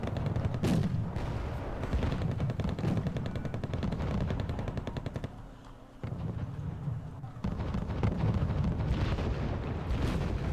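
Video game battle gunfire in a tournament match: dense, rapid machine-gun bursts and heavy artillery thumps, with a brief lull midway before the barrage resumes.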